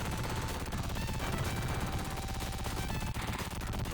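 Rapid gunfire from a gun in a Sega Genesis shooting gallery arcade game, dense and continuous over a busy game soundtrack, with no voices.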